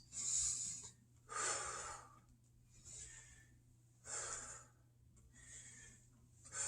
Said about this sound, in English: You want to breathe out when you exert the force.